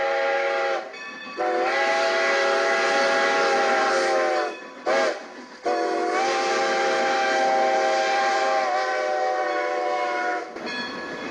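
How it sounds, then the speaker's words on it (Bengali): Steam train arriving at a station, with long sustained whistle blasts broken by brief pauses over a steady rumble of the carriages on the rails. "দূরে ট্রেনের আলো দেখা যাচ্ছে, রেল লাইনে ঘর ঘর শব্দ উঠছে।"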